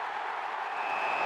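Crowd roar at an AFL footy match, a steady broad wash of cheering and applause held at even loudness for the whole stretch with no voices picked out.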